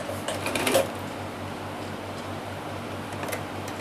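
A sewing machine runs steadily, stitching a small summer dress (jhabla) for a Bal Gopal idol, with a continuous low mechanical hum and faint ticking, a little louder at the start.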